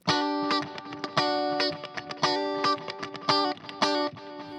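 Electric guitar played through a Fryette Cyclops amp with delay, a steady run of bright, distorted strummed chords with repeating echoes trailing each hit, loud and alone with no talking.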